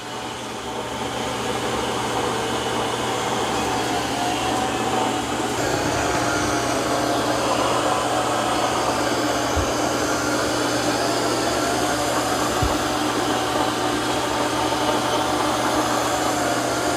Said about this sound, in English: Okay, here goes the X10. Okay, it has spinning mop pads that it can lift up and down when it senses carpet.